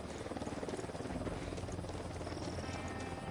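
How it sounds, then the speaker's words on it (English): A helicopter approaches in the Ghost Recon video game, its rapid rotor chop pulsing loud and steady beneath dense battle ambience, with no speech over it. "Chopper inbound."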